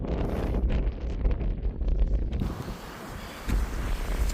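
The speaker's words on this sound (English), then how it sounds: "It's pretty windy and wet" Strong gusts buffet the microphone in heavy, rumbling bursts that ease briefly and then return, loud and close, in wet, foggy weather on a hilltop.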